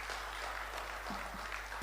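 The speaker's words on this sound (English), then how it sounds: "Can we give him a round of applause?" Audience applause for a justice taking the podium at the Court of Appeal annual conference, a steady, somewhat distant wash of clapping over a low hum, with faint voices underneath.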